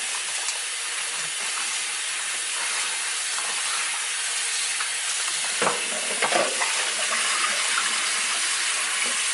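Tap water pours steadily into a freshly disinfected kitchen sink for cooking tamales, an even, close hiss of running water with a couple of brief splashes partway through.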